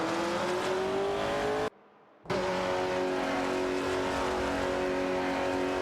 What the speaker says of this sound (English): The battle intensifies between Sneaky 515 and Laserlux in a Plymouth Barracuda Hemi